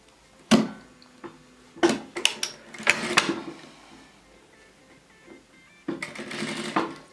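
A sewing machine stitches along the edge of a fabric scrunchie in several short close bursts of rapid mechanical whirring, separated by pauses and ending with a longer run.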